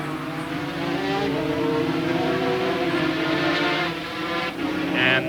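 Superbike motorcycles racing at Donington Park in 1984, a sustained high-revving engine drone with rising and falling pitch as bikes pass, fairly loud and continuous.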